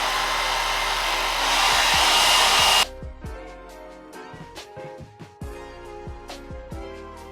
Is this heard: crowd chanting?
no